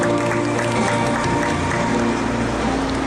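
An audience claps after a poetry reading at a workers' protest culture festival held beside a bell-tower sit-in, a steady, sustained round of applause with a constant tonal hum running underneath.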